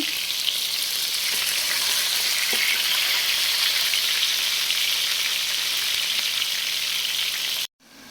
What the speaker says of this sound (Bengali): এই জন্য চিকেনটা ফ্রাই করে নেব।